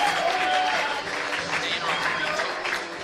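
A baseball crowd at a Sonoma Stompers versus Healdsburg Prune Packers game applauds a home run with a steady wash of clapping and cheers.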